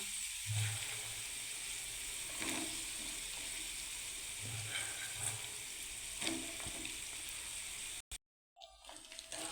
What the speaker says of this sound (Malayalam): ഇനി നമുക്കിതിനകത്തേക്ക് കഴുകി ഉണക്കി വെച്ചേക്കുന്ന കാന്താരി ഇട്ട് കൊടുക്കാം.